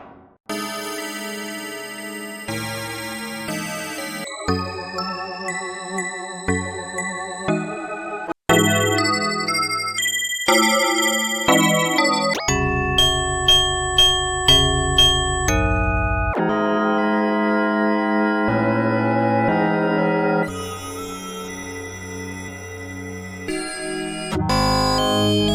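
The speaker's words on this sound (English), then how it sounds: "We can click on bells and go through some of the bells." Bell presets on the FM Zone VST synth plugin, with its retro 80s FM sound, play one after another as a run of bright, chiming melodic phrases that change timbre every few seconds.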